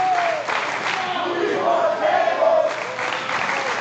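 Wrestling event crowd in an arena cheering and shouting, a dense roar that swells and dips with a few individual yells standing out, loud and continuous, with a commentator's voice faintly underneath.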